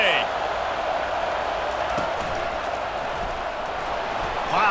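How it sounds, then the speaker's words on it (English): A packed stadium crowd roars at a Georgia vs Tennessee college football rivalry game, a loud, sustained wash of cheering that swells again at the end. "This crowd, full throat, splitting the eardrums and letting them know it's going to be a long day"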